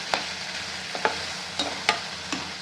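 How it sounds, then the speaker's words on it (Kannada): A salted chili spice mixture fries in a pan for a sprouted-gram seasoning dish, giving a steady close sizzle. About five sharp scrapes of stirring land at uneven intervals. "ಖಾರ ಎಲ್ಲ ಹಸಿ ವಾಸನೆ ಹೋಗೋವರೆಗೂ ಫ್ರೈ ಮಾಡ್ಕೊತಾ ಇದ್ದೀನಿ"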